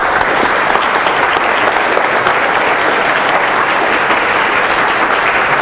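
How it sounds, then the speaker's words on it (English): A conference audience at the close of a mentoring talk gives a heavy, continuous round of applause, dense and loud with no talk over it. "Heavy round of applause."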